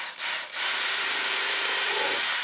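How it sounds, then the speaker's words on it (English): A power drill bores a hole into wood for a grooved, rebated tray, a steady close whine that starts after a brief stutter and runs evenly to the end. "I can get my drill in here to drill some holes"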